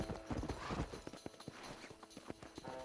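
Horse hooves clip-clop in Red Dead Redemption, a steady run of sharp, close hoof strikes with a brief whinny-like call over game ambience.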